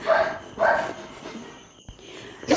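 Native village dogs barking at dusk, several sharp barks in quick bursts at a moderate distance, with a brief quieter gap between them and no talk.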